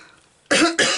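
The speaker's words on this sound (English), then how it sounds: "coughing in your ear" Two sharp, harsh coughs close by, one right after the other, following a moment of near silence.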